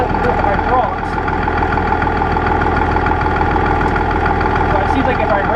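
International Harvester 1586 tractor engine idling steadily while warming up, a loud, continuous low diesel rumble with a slight knocking rhythm, heard close and unbroken throughout.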